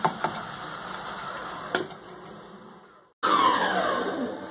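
Chicken breast frying in a pan, a steady soft sizzle with a few clinks, a brief silence, then a louder burst of crackling sizzle close by.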